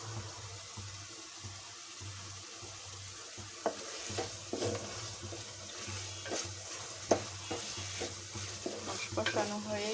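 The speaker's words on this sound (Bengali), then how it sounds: "মশলাটা এভাবে কষিয়ে নিই।" Spice masala sautéed in a pot of bottle gourd cooking gives a continuous close sizzle, with stirring scrapes growing busier midway and a steady low hum underneath.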